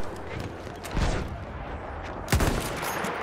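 Battlefield 1 battle gunfire: two heavy, booming shots about a second apart stand out over a dense, constant wash of distant firing and battlefield noise.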